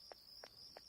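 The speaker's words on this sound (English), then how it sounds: "Oh, good, cicadas." Cicadas buzz in the summer town of the video game Persona 4 Golden, a steady high-pitched drone running throughout with three short rhythmic chirping pulses, fairly faint and with no talking.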